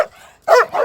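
A chained dog behind a gate in a rural forest village in China barks loudly and close by, a short, harsh double bark.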